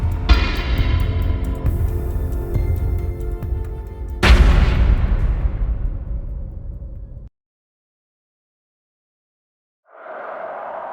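Loud bursts of gunfire in an animated short film, dense and booming for several seconds, then a sharp fresh blast followed by a decaying rumble, a stretch of silence and a soft noise at the end.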